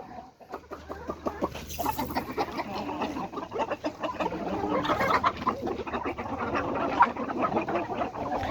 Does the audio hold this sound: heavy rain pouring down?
no